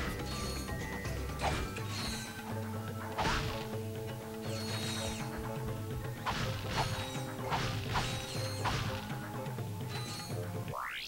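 In the Ratchet and Clank: Up Your Arsenal video game, a box smasher weapon breaks crates with repeated whacks and crashes, layered with mechanical clanks and whirring game effects at a busy, moderate loudness.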